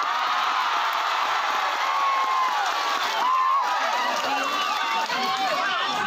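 A crowd at an outdoor religious gathering in Taichung, Taiwan, claps and cheers in a dense, continuous roar, with scattered shouts rising through the noise.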